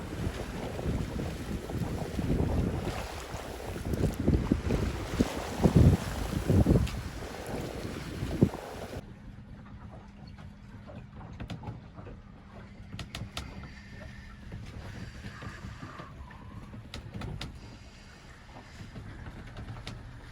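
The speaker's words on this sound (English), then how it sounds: "So yeah, very pleasant sailing right now." A small sailboat under way in wind and waves, heavy wind buffeting and water rushing against the hull at first, then calmer, steady water and rigging noise for the rest.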